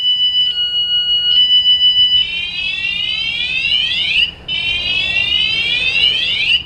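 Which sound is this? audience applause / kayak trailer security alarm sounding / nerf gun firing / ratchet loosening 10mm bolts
kayak trailer security alarm sounding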